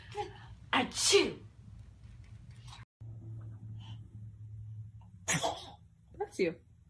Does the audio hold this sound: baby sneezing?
yes